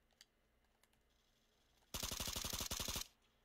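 Rapid automatic gunfire from a shooter video game, a loud burst of about a dozen evenly spaced shots lasting roughly a second, standing alone after quiet background.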